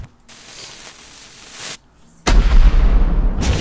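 Gunfire in the video game The Baby in Yellow: a short quieter burst followed after a brief pause by a loud, heavy blast with a booming low end, close and harsh.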